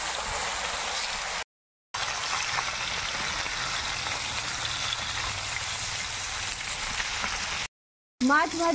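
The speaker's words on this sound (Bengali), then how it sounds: "মাছ ভাজা হয়ে গেছে, এবার মাছগুলোকে আমি তুলে নেব" Pieces of pomfret fish fry in hot oil with a steady, even sizzling hiss that is moderately quiet and continuous, broken only by two brief gaps.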